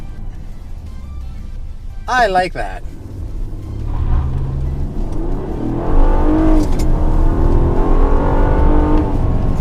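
A 2017 Honda Accord Touring with its VTEC V6 accelerating, engine pitch climbing and dropping as the automatic transmission shifts up and down, steady and close, with a brief spoken comment early on.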